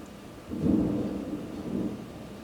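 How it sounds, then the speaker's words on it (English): Low rumbling thunder rolls in twice, a swelling boom followed by a softer second rumble, over a steady wash of rain. "Hold on, y'all about to hear the thunder."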